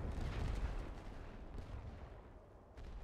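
Artillery barrage in a First World War game on the Western Front, with deep, rumbling booms of distant guns rolling together into a continuous low roar that rises and falls at moderate loudness, with no voices.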